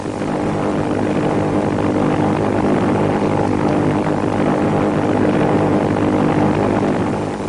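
World War II Japanese propeller warplanes fly southward on an attack mission toward the Philippines, a loud, steady engine roar that drones unbroken without fading.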